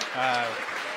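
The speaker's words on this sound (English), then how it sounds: "if you guys can hear the cheering in the background from my team members" Team members cheer in the background during a rocket launch broadcast after a first-stage water landing, a brief burst of distant crowd noise mixed with a voice.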